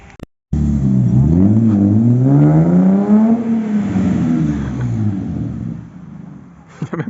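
A car pulls away at a vehicle technical inspection center, its engine revving up in rising and falling sweeps, loud and close, then settling into a steady drive before fading.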